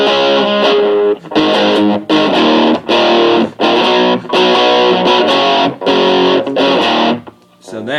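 Heavily distorted electric guitar plays the pre-chorus, loud chugging chords in rhythmic bursts separated by short muted gaps, ending with a quieter ringing note.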